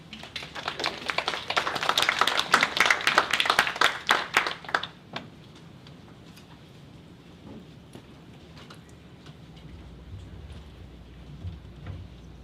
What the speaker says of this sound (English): please give him a round of applause as he comes up